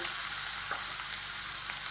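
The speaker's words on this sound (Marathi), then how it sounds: "तर कांदा आपण भाजून घेऊया" Two finely chopped onions with a little salt fry in oil in a kadhai, giving a steady, close sizzle with faint crackles and no talking.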